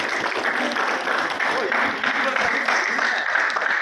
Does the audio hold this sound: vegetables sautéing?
no